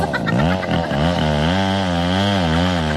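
A chainsaw-like engine drones loudly and steadily, its pitch wavering up and down as if revving, with no pauses throughout.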